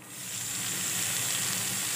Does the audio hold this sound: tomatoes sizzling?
yes